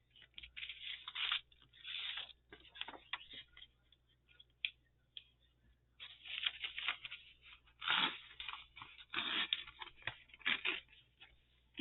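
Envelope paper is cut away close up, producing crisp, irregular bursts of snipping, crinkling and tearing with short pauses between strokes, and no voices.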